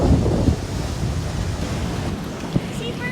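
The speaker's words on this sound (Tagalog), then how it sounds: "Umaalon yung tubig, nakarating yung tubig hanggang dun sa daan." Ocean waves surging at Red Rocks Reserve, New Zealand, wash in as a steady broadband roar with wind buffeting the microphone, a few low thumps under the rush and faint talk in the background.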